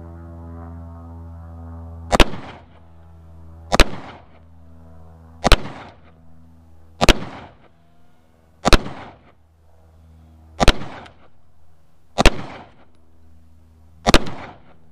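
Eight loud, sharp gunshots from a Hi-Point C9 9mm pistol with a seven-round magazine, fired at a steady pace about one and a half seconds apart, each crack followed by a short ringing decay over a steady low hum.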